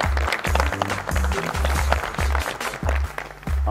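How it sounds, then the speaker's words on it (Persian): A studio audience at a Mafia Nights Zodiac game show applauds steadily for several seconds, a continuous hiss of claps running over a pulsing musical beat. "تشویقشون کنید"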